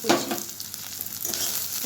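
Capsicum added to onions sizzles in a pan, a short burst of loud frying hiss with a spatula scrape at the start and another stir near the end, close and steady.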